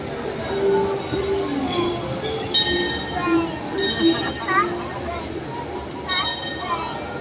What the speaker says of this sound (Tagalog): Fast train.